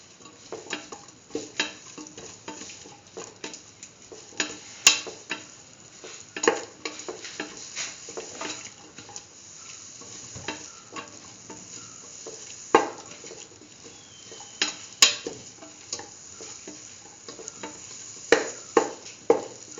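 A spice mixture is stirred into a chayote and green pea stew, with irregular spoon scrapes and knocks against the pot over a soft simmering sizzle, close and unaccompanied by voices.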